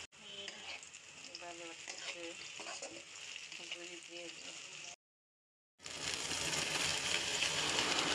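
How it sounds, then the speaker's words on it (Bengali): Boiled tripe, seasoned with salt and turmeric, frying with browned onions: rhythmic scraping stir strokes over a light sizzle, a brief silent cut, then a louder, dense, steady sizzle up close. "আর এখন আমি যে পেঁয়াজ একটু ব্রাউন করে রাখছি সাথে মিক্স করে ফেলি।"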